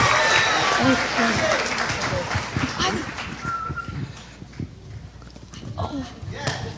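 An audience at a school annual day event claps for team captains, a ragged spread of hand claps under overlapping voices and shouts, moderately loud and uneven throughout.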